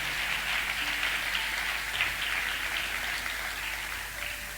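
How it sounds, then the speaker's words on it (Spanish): Congregation applauding for the Lord during a church sermon, a steady, dense wash of clapping that holds evenly from start to finish. "le damos un fuerte aplauso al Señor"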